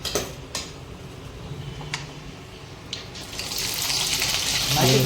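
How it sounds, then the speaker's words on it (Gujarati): A few sharp clicks and clatters, then hot oil crackles into a growing sizzle as onions are tempered, getting louder and denser toward the end. "હવે આપણે ડુંગળીનો વઘાર કરવામાં આવશે"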